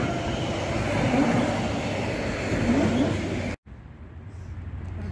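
A steady loud rumble of a PKP train rolling along the tracks into a station fills the cold evening air, then cuts off abruptly to a quieter hum of the surroundings.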